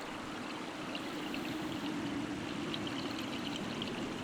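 Shallow, clear stream running over a bed of small pebbles and sand at a salmon spawning ground, a continuous close rushing babble with no other sounds.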